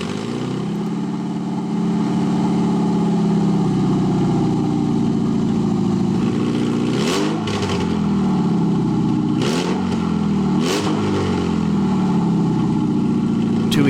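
A 2001 Toyota MR2 Spyder engine catching and settling into a steady idle, with a few brief revs later on, close and fairly loud with no talking.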